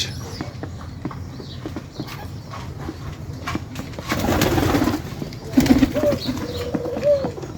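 Pigeons coo in low, throaty bursts over scattered clicks and shuffling, growing louder toward the end.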